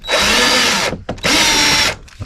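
Small screws are driven by a power drill at an off-grid cabin, heard as two loud, steady whirring runs of about a second each, separated by a brief pause and a couple of quick blips.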